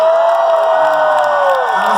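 Concert crowd cheering and whooping loudly at a live show, a sustained roar of voices with a prominent high yell carrying over it.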